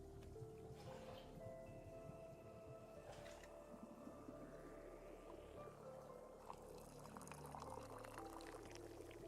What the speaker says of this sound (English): Dude, I always over pour.